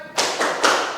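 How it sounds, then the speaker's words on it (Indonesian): A class in an Islamic religious education lesson doing the tepuk semangat rhythmic spirit clap: three sharp, unison bursts of claps spaced about a quarter second apart, close and punchy, with no talk. "biar tambah semangat, tepuk semangat."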